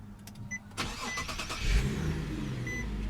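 2016 Infiniti QX50 with a 3.7-liter V6 started by push button: a short starter crank, then the engine catches and settles into a steady idle, heard up close with no talking.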